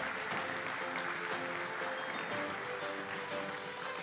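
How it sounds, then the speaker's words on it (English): Applause from the audience at a stock exchange listing ceremony, a steady moderate clapping held under a faint tonal background, with no talk over it. "Let's have a huge round of applause"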